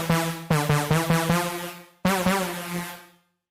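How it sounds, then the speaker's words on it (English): A clean, lightly distorted horn patch from the Sylenth synthesizer, pitched an octave up, plays a short run of bright stabbed notes followed by a longer held note that fades out. "clean, not so distorted horn like this one."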